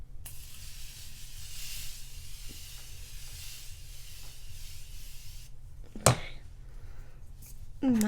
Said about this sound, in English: I'm gonna go ahead and spray my face